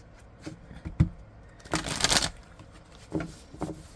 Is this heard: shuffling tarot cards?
yes